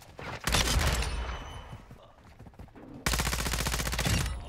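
Rapid automatic bursts from the ISO 45 submachine gun in the video game Modern Warfare 2, two loud sustained strings of fast shots separated by a brief lull, close and dominant.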